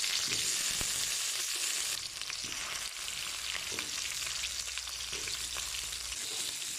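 Sliced potatoes frying in a pan of hot oil for beef estofado, a dense, even hiss of sizzling that carries on steadily and close with faint clicks now and then, no voices.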